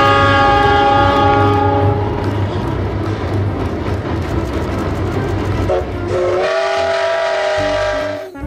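A toy Thomas train plays loud electronic sounds: a sustained whistle-like horn tone, then a chugging rhythm and a rising toot near the end, no talking.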